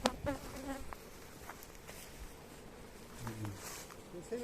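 A swarm of honey bees buzzes around weak beehives outdoors, a dense continuous drone with single bees zipping close past, while people talk faintly in the background.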